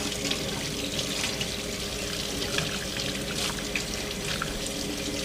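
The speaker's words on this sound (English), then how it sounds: "all you gotta do is just soak the brush." Gesso brush soaked under running hot tap water, a steady close splashing and trickling that stays even and alone throughout.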